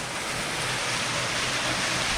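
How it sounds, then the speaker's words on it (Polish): Small waterfall in Syracuse, Sicily, giving a steady broadband rush of falling water, close and continuous, with no voices. "tutaj mamy taki wodospadzik"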